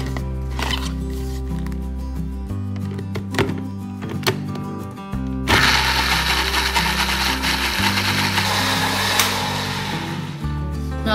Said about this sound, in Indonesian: Udah masuk semua bahannya, kita blender.